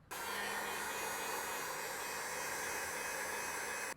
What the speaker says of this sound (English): I'm going to take a heat gun to it to help speed up installation